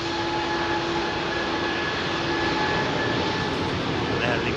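An Aer Lingus airliner departs at London Heathrow with a loud, steady engine roar and a whine, heard close and continuous with a faint voice in the background.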